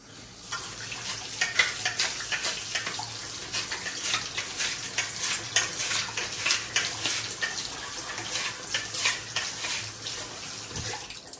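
A Kuvings juice extractor runs with water poured through it, giving a steady rushing, splashing flow with dense rapid crackle throughout, close and fairly loud.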